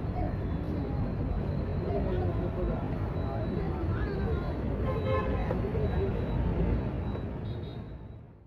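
Early morning street traffic at Kacheri Road corner, Luss Junction in Mylapore, a steady dense rumble of engines with occasional horn toots, heard under continuous narration.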